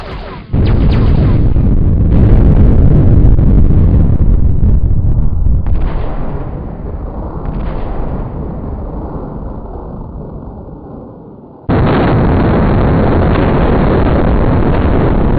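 Heavy booming torpedo impacts and explosions in the Wing Commander space combat game, a loud rumbling blast that slowly fades before a second sharp, sustained roaring burst cuts in.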